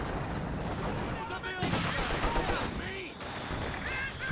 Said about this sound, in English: nasty mortar shell and grenade follow-up